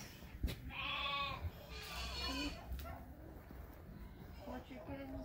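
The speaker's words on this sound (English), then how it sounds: "Here's a farm, some goats, pretty goats." Goats on a farm bleat in short wavering calls near the start, mixed with other animal noises and people talking throughout.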